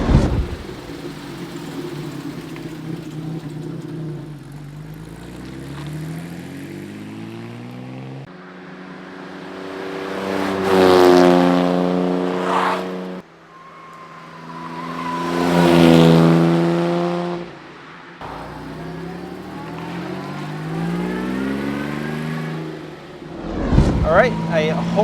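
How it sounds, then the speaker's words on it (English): A 1955 Jaguar XK140 MC sports car's engine revs hard under throttle as it makes flybys, its pitch climbing and swelling loud as it nears, then fading away, with the passes repeating. "I think the 140 sounds really fantastic under throttle"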